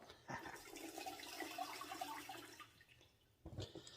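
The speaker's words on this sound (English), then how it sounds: "So I always just fill the barrel up with water when I'm putting everything in and then dump the water out." Water is tipped out of a rock tumbler barrel loaded with rose quartz and ceramic media, a faint, close gushing splash lasting a few seconds, with a brief sloshing burst near the end.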